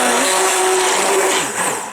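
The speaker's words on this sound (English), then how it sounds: "I think I'm actually going to use my hand blender for a minute." A handheld stick blender whirs steadily for about two seconds, mixing a liquidy muscle balm salve base, loud and close with a slight dip in pitch near the end.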